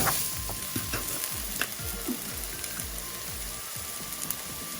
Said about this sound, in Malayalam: വിനീഗർ കൂടെ ചേർത്തിട്ട് വേണം മിക്സ് ചെയ്യാനായിട്ട്